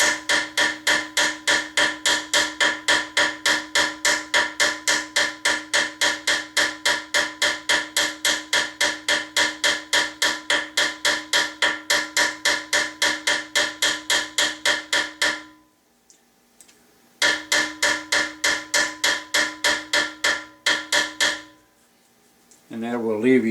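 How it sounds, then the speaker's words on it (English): A gunsmith's ball peen hammer taps rapidly and evenly around the outside edge of a metal touch hole liner set in a gun barrel, loud and close. The strikes pause briefly midway, resume, then stop near the end. "I will take a ball peen hammer and hammer around that outside edge"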